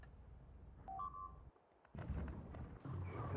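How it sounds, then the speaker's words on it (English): Artillery fire in the factory game Factorio, a few deep booming impacts with rumbling aftermath after a brief electronic beep, moderately loud and somewhat distant. "there's the assault from the artillery"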